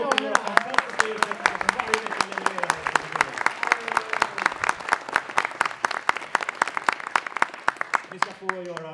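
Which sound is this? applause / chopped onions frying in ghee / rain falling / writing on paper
applause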